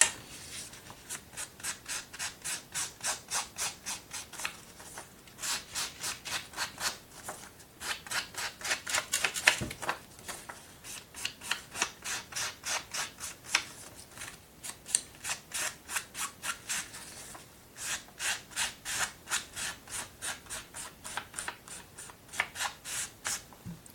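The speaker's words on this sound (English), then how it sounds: "first we're going to ink the edges on this piece of paper" An ink pad rubbed in quick repeated strokes along the edges of a piece of paper, a steady scratchy swishing rhythm, close and fairly loud, with no talk.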